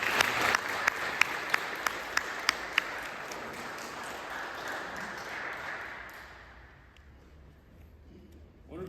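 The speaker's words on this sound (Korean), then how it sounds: "예, 박수로 환영합니다." A church congregation at Sunday worship applauds to welcome newcomers, producing a full, steady wash of clapping that holds for several seconds before tapering off and fading to quiet near the end.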